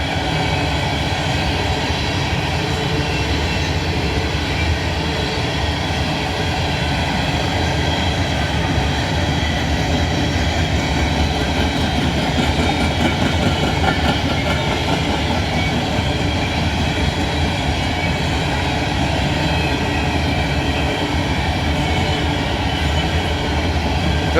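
A long southbound coal train rumbles steadily past at close range, with a constant roar and faint rhythmic clatter of wheels throughout.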